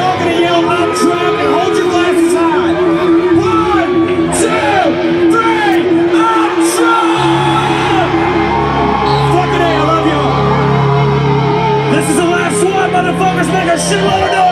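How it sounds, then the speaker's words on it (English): A live concert crowd at a farewell show yells and whoops together in a sustained, loud wall of shouting, with individual voices rising over the dense crowd noise throughout. "On the count of three, we're all gonna yell, "I'm trapped.""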